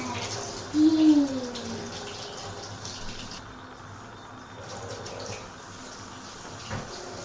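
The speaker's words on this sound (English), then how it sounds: "Now we're gonna rinse it with hot water." Hot tap water runs over cooked pasta in a kitchen sink, a soft steady splashing and trickling stream, fairly quiet, with a brief louder gush near the start.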